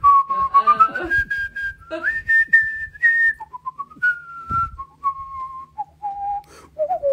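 A person whistles the tune Dixie at a live show, a clear, close melody of sustained notes that glide between pitches and hold steady, alone with no talking over it.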